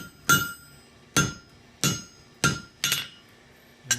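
Steel bar struck with a hammer over a hardy tool on a blacksmith's anvil to cut it, six sharp ringing metallic blows at a slow steady pace, close and loud with a bright clang on each, no talking.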